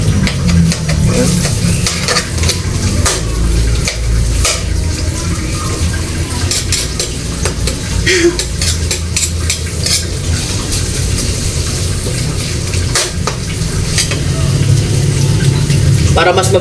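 Onion and garlic sauté in a pan, giving a steady sizzle with frequent stirring scrapes throughout, fairly loud and close, while a person talks intermittently over it.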